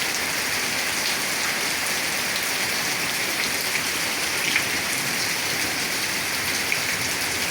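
Heavy rain falling at a factory by the Baradi bazaar, a dense, even hiss of drops pattering on surfaces that holds steady and loud from start to finish, with faint scattered taps and no voices.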